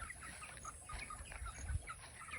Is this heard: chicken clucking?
yes